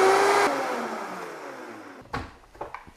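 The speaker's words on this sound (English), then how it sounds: "I'm gonna blend this on high until we have a nice cashew cream" A high-speed blender purées cashews into a cream, its loud, steady motor roar filling the opening seconds and then winding down, followed by a few short clunks and knocks.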